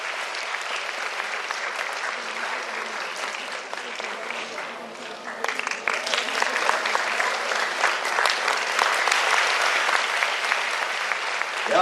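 A crowd at a panel event applauds a psychiatrist guest, a sustained wash of many clapping hands that swells louder midway and keeps going strongly to the end.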